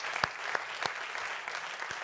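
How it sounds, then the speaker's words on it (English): Audience applause at a university Entrepreneurs Challenge final pitch-off event, steady, moderately distant clapping from a seated crowd with a few sharper claps standing out, no talk. "I think that deserves a round of applause in itself."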